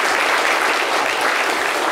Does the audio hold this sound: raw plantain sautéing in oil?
no